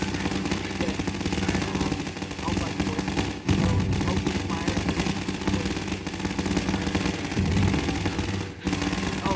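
Dense, sustained gunfire from a Garry's Mod riot scene, with continuous rapid shots layered into a steady barrage and brief dips, close and loud, with some talking faintly mixed in.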